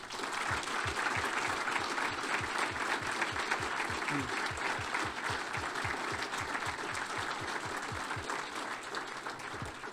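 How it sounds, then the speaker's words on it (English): Audience applause at a military retirement ceremony, a sustained roomful of clapping with an underlying rhythmic pulse of unison claps, fairly soft and steady throughout, with faint voices mixed in. "I want everybody to give Willie Frazier and his service and his family a round of applause, please."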